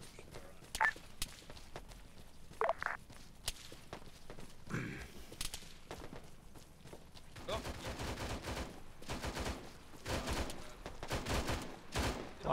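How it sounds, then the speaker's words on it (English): Sporadic gunfire in Arma 3, a military squad operation: scattered sharp cracks and faint distant shots, thickening into denser bursts later on, low in level with occasional radio-style voices. "Just keep moving, it's sporadic fire"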